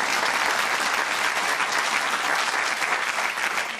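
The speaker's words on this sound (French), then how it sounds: "Ah, tu peux applaudir." Steady, dense audience applause at a live stand-up comedy show, loud and continuous from start to finish with no voices on top.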